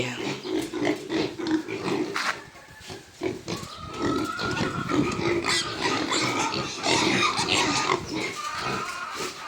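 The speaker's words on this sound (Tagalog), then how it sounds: "Ayan ang mga baboy." Several pigs grunt and snort close by on a farm in Calauag, Quezon, a continuous rough chorus with occasional squeals and no talking.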